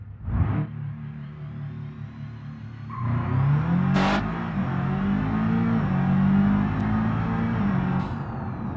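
A 2009 Hirochi Sunburst Sport RS with 276 PS revs and accelerates, a steady mid-pitched engine drone that swells and climbs after a brief opening burst, with faint clicks over the top.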